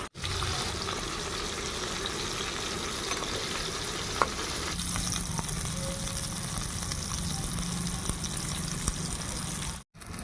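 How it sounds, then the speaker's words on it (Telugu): Dried fish fries in hot oil with a steady, even sizzle that runs for about ten seconds, close and constant, with a brief dropout near the end and no talking. "నూనె పోసుకుందామండి ఎండు చేపలు వేసుకుందాం"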